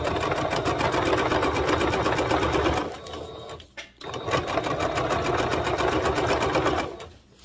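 A sewing machine stitches a folded hem on a daisy top, a fast even mechanical rattle that runs, pauses briefly near the middle, then resumes before stopping at the end.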